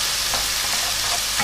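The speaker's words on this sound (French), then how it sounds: "je vais faire en fait revenir mon oignon haché pendant à peu près 3-4 minutes" Chopped onion sautéing in a pan with a little oil and butter, a steady close sizzle with faint stirring scrapes.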